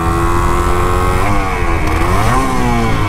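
A restored Can-Am motorcycle engine runs in gear, close and loud, its steady drone rising twice as the revs climb.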